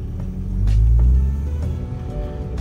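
A 1999 Honda Civic SiR with a chambered muffler and full exhaust rumbles low and deep, its exhaust note swelling briefly then settling into a steady, throaty drone close by.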